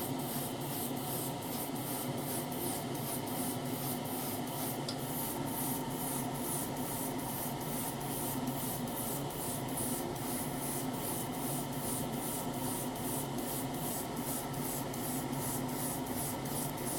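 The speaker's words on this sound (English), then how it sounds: "check my spray's coming out, and then just start misting it on." Steady, continuous hiss of spray paint misting from a can onto a 1:12 Tamiya Yamaha YZF-R1M model swingarm, even and unbroken throughout with faint rhythmic ticking underneath.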